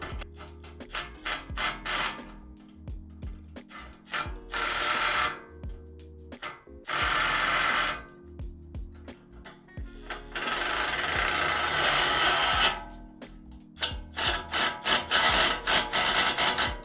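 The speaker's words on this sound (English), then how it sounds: "So I'm gonna get a 9/16 wrench and socket to get these installed." A 9/16 wrench and socket drive bolts while rock sliders go onto a Toyota 4Runner, heard as bursts of rapid ratcheting and mechanical whirring broken by brief pauses and clinks of metal.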